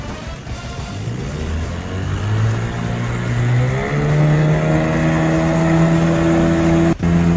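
Boat engine in an audio game starts up and accelerates, a steady motor drone whose pitch climbs smoothly and then holds at a high, loud whine, running alone without talk.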